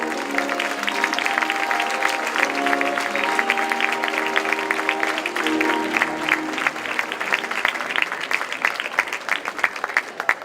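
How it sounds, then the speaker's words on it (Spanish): Crowd applause at a town festival proclamation ceremony in Blanes, dense sustained clapping from many hands, loud and close, with faint musical tones underneath at first. "Un aplaudiment per ells, sisplau."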